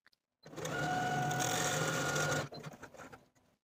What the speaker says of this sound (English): Use the longest stitch on your machine and baste with about 1/4 inch seam allowance from notch to notch